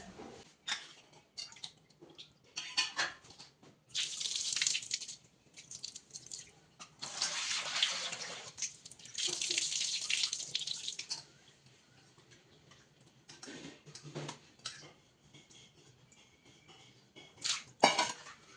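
Running water splashes in bursts with wet rubbing and handling sounds as meat is washed in turmeric water, pausing between rinses, close by and without talk.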